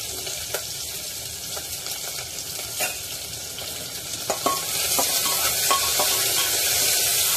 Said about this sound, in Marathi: कांदा गोल्डन ब्राऊन होईल इतपत परतायचा आहे।